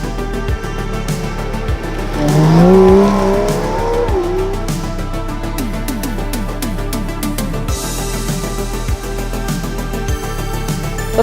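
An Aston Martin DBS driving on country roads, its engine rising in pitch through gears with a surge near the start, then settling into a steady close drone with rhythmic road noise.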